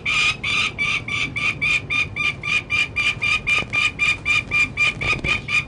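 A chicken held for photos at a bird banding day makes a loud, regular series of sharp, evenly spaced calls, roughly three or four per second, close to the microphone with no talk.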